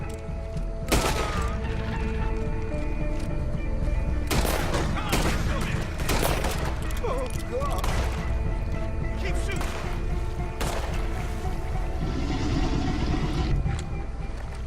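Several loud gunshots crack out in Red Dead Redemption 2, some isolated and some in quick clusters, fired at a big alligator in a swamp, with water and movement noise between the bursts.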